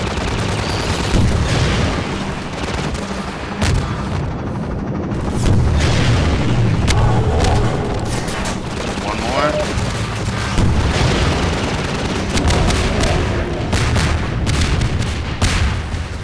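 Energy-ball weapon firing in the Half-Life 2 video game, booming blasts and gunfire-like bursts layered with game effects and music throughout, with a voice talking over it.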